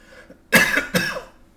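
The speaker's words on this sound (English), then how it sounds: "I drink and start coughing" Two sharp, close coughs in quick succession, the first harsher and longer, followed by a faint throaty rasp.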